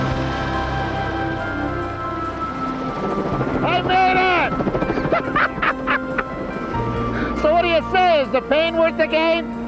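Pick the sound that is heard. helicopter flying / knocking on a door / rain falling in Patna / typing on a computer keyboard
helicopter flying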